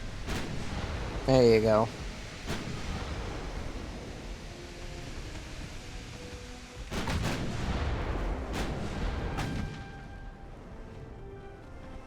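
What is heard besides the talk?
battleship main guns firing AP shells, from video game Ultimate Admiral: Dreadnoughts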